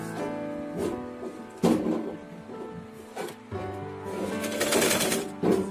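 A sewing machine stitches a doubled, folded piece of cloth, giving a fairly quiet mechanical whirring that comes in several bursts, with stops and handling noises in between.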